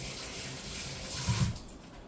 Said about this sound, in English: So let me just wash my hands.